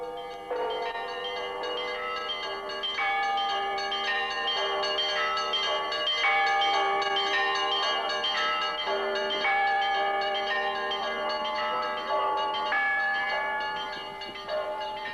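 Russian Orthodox church bells ring from the tallest bell tower in Jerusalem, the Russian Candle, calling nuns to morning mass. Many bells sound together in a dense, continuous peal with overlapping strikes that ring on steadily throughout.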